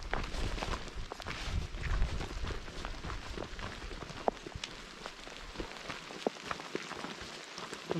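Rain pattering steadily on a forest canopy along the Affric Kintail Way in the Scottish Highlands, a dense close hiss with scattered sharper drips throughout.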